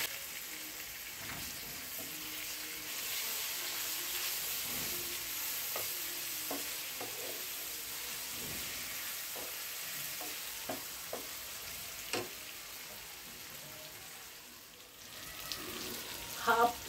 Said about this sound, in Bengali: আর এখানে একটু জল দিয়ে আমি মশলাটাকে একটু কষিয়ে নেব